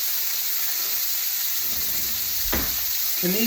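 Steaks sizzle in butter in a pan, a steady close hiss of frying with a brief clatter and faint stirring sounds near the end, no voices.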